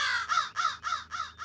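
A black crow caws five or six times in quick, evenly spaced harsh calls, close and loud, with no talk over it.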